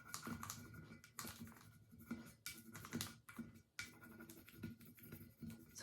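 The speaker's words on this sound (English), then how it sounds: "Now we're going to take our burnisher, and you just start burnishing." A burnisher rubs an ink transfer onto a small rounded surface with quiet, rhythmic scratchy strokes, each short pass repeating faintly at close range.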